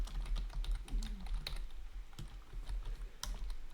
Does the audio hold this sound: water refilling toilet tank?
no